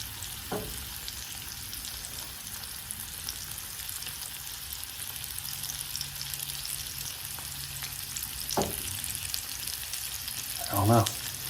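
Pork reheats in a pan on a Kentucky home stove with a steady, close fry and sizzle throughout, and a few brief clatters as the pieces are stirred and turned near the end.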